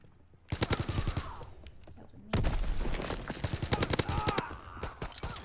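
Rapid bursts of gunfire from World War II weapons in the game Call of Duty WWII, including an Enfield rifle, with loud repeated shots in two dense volleys and a voice briefly audible in between.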